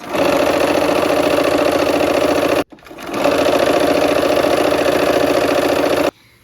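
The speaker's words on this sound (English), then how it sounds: "we're gonna go ahead and sew our seams now" Sewing machine running steadily while stitching quarter-inch quilt seams, a loud continuous mechanical whir in two long runs split by a brief pause, with no talking.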